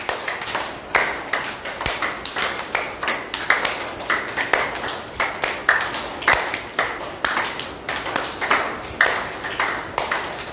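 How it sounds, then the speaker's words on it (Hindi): A group clapping hands loudly in rhythmic unison during a Sahaja yoga healing session, sharp repeated claps in a steady beat, with occasional voices beneath. "ताली जोर से बजनी चाहिए।"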